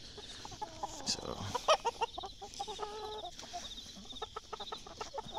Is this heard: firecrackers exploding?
no